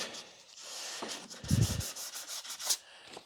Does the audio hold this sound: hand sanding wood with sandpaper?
yes